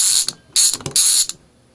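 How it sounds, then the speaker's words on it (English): Vintage Radio Shack Archer ratcheting screwdriver with a fine ratchet, clicking in three quick bursts of dense, close, crisp ticks separated by short pauses. "the finer ratchet on this is definitely making it"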